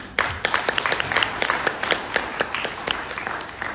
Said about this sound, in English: So can we have a big round of applause for all of us?